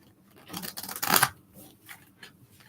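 Tarot cards are shuffled close up, a quick riffling burst of papery flicks and slaps that peaks in the middle and trails off into softer taps.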